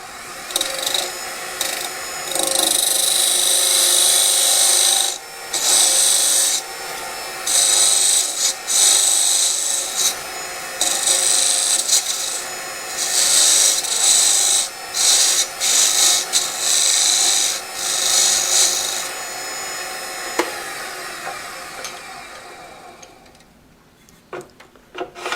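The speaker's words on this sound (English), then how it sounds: "I have a small parting tool. I'm going to remove some of this wood down here" A small parting tool cuts into spinning wood on a lathe, shaping a tenon on a hollow form. A loud, steady scraping hiss comes in repeated close passes with brief pauses between them.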